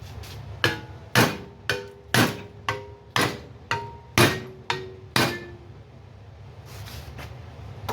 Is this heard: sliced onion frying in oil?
no